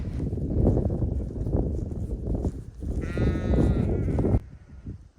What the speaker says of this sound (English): So we're just checking the sheep this morning.